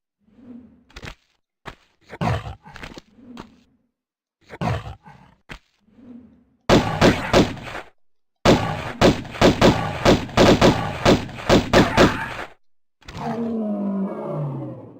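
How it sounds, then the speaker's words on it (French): A bear in the 1996 video game Tomb Raider, Vilcabamba level, lets out a series of loud growls and roars in short bursts and longer runs, mixed with thumps, then a final drawn-out roar. "l'ours est juste en dessous."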